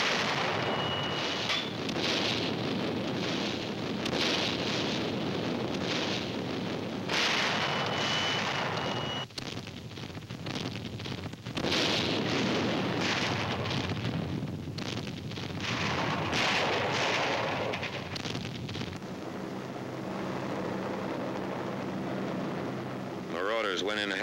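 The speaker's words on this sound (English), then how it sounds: "Bombardment continues." Artillery bombardment in Normandy D-Day wartime footage: a continuous heavy rumble of distant blasts and booms, thick and noisy throughout, with a narrator's voice over parts of it.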